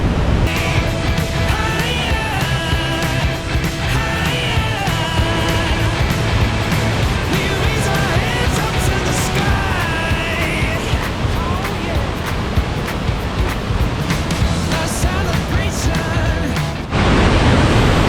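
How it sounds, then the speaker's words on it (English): Low Force waterfall on a high-flowing river pours with a loud, constant rushing roar, while people nearby talk and voices carry over the water throughout. "it's got a lot of water coming down it, which is making it brilliant to see"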